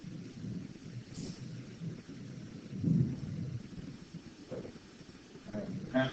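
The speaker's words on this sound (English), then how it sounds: "I hear rumbles and thunder." Low distant thunder rumbles through a steady wash of rain, swelling into a louder roll around the middle and again near the end, heard indoors with no talk.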